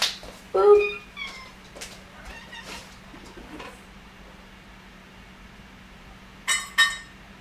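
A pet cat meows a few times at home, short high calls near the start and again at the end, with quiet stretches between and a steady low hum underneath.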